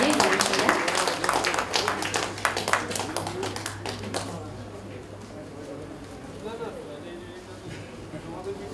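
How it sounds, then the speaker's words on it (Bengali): An audience at a stage ceremony for a Tagore-song performance breaks into dense, lively clapping for about four seconds before it dies away, leaving a quieter hall murmur. "আমরা সবাই একটু উষ্ণ করতালি দিই"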